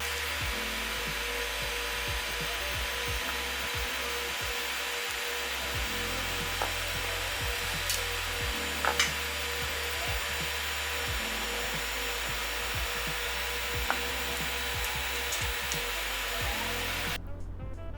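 VAGO travel vacuum compressor drawing air from a vacuum bag, a continuous close motor whir with a hissing airflow and faint rhythmic rubbing ticks, steady throughout until it cuts off at the very end.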